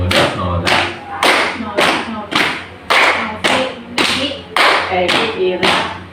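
A group plays a rhythmic clapping game in a classroom, about ten loud, close claps falling in an even, repeating beat, each a short burst of several hands together.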